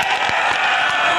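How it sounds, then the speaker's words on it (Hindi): A large outdoor crowd at a political rally in Chilkana, Saharanpur claps loudly to welcome Priyanka Gandhi. The applause is dense and continuous, with faint cheering mixed in. "मैं चाहता हूं कि प्रियंका जी के स्वागत में एक ऐसी ताली बजे"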